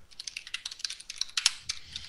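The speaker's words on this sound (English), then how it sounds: "everyone will type very badly because you're typing for an audience" Typing on a computer keyboard: a rapid, irregular run of close, crisp key clicks with small pauses between bursts.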